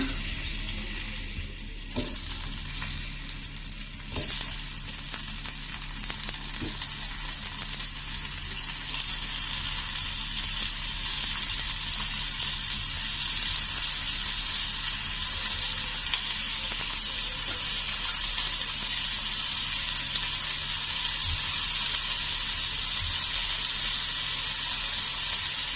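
Marinated prawns fry in hot oil, producing a loud, constant crackling sizzle that fills the whole stretch, with a brief clatter near the start and no voices.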